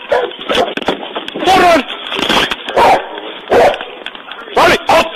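A police dog barks in repeated loud bursts during an arrest, with officers shouting over and between the barks.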